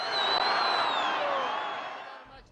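A crowd gathered for Ahmadinejad's address in the southern city of Shiraz roars in a dense, steady wash of cheering with shrill whistle-like tones. The noise stays loud before fading near the end.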